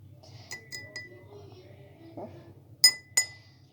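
A teaspoon of sugar dropped into a glass gives a few light, bright clinks, two sharper ones close together at the end, near and clear over a faint low hum.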